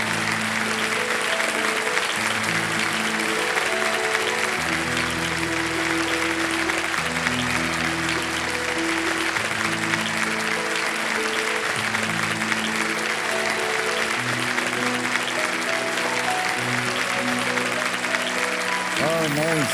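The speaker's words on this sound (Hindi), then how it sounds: "ताली बजाएं।" Studio audience on the Kaun Banega Crorepati set clapping steadily for a long stretch, a continuous crowd applause under sustained background music.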